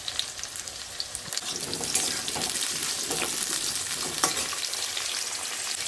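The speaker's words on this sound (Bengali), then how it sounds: "আলুটা কেটে ধুয়ে নিয়েছি," Cut potatoes fry in hot oil in a pan for a vegetarian potato and cauliflower curry, giving a steady, fairly loud sizzle with occasional crackles and stirring scrapes throughout.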